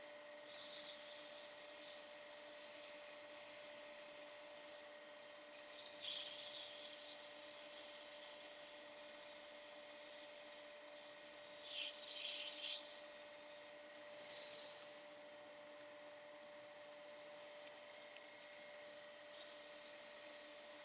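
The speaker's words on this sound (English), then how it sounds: "I'm going to do a wee sand. So I'm putting the dust extractor on." Dust extractor drawing air while a wooden goblet with captive rings is sanded on the lathe, a steady high hiss and hum that swells and drops as sanding passes come and go.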